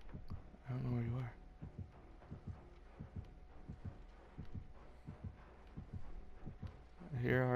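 Rhythmic heartbeat warning from Dead by Daylight, a steady series of low thumps running through the whole stretch, with a person talking briefly at the start and end.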